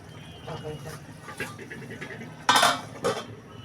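A metal lid goes onto a pot of potato and aubergine curry with a bright clang, then a second shorter clink, over low kitchen rustle and a faint voice.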